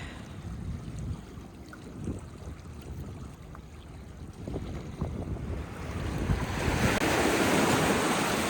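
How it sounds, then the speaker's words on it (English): Water laps along the River Thames foreshore as the tide comes in, with irregular splashes and soft wash that swell into a louder, fuller rush of surf and wind over the last few seconds. "Tide's coming in."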